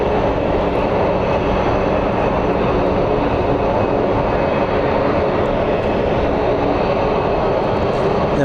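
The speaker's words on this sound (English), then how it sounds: "And we have Frontier 93434, Sunny the Collared Lizard livery that" Frontier airliner passing at Phoenix Sky Harbor airport, a loud, continuous broadband jet engine roar that holds steady without letup from start to finish.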